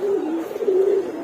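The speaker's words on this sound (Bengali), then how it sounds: "অল্প কিছু কবুতর আছে ছাড়লাম" A single pigeon at a loft gives a steady low rolling coo, close and clear, lasting just over a second with nothing else around it.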